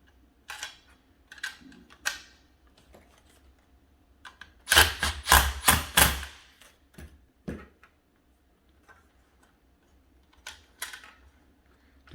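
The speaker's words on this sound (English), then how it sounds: "we can go in and go ahead and put our screws in to actually hold the radio in place" Screws driven in to mount an aftermarket radio in a 2011-2013 Kia Forte dash: scattered faint clicks and ratcheting, with a louder cluster of sharp, rapid buzzing bursts near the middle, then a few isolated taps.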